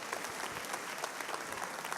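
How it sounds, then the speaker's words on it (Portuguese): Applause from a church audience welcoming a speaker, dense steady clapping throughout with no voices over it. "Pedir que você receba ela com uma salva de palmas."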